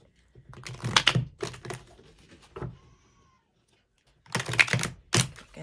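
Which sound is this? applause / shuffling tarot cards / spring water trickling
shuffling tarot cards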